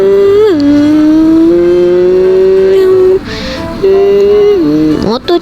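An engine in the video game Ojol Life Simulator whines at a loud, steady pitch, with several quick rev rises and drops and a brief break in the middle.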